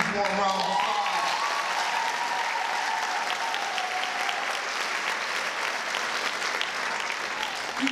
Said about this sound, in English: Let's give her a huge warm round of applause.